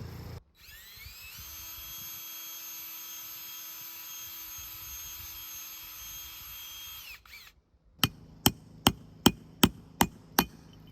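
A power drill whines steadily for several seconds, enlarging a bolt hole for a winch fairlead, then stops; a quick series of about seven sharp, evenly spaced knocks follows.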